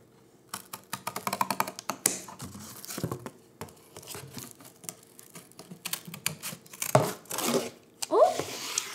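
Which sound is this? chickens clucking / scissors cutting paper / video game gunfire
scissors cutting paper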